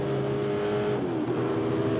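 A Group C endurance race car drives past at Silverstone, its engine loud and close with a steady, sustained roar that shifts in pitch midway as it goes by.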